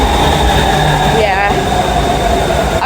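Steady rumble of a Bangkok BTS Skytrain in motion near Sukhumvit 23, with a constant broadband roar, faint hum and a brief rising whine midway, heard from inside the carriage.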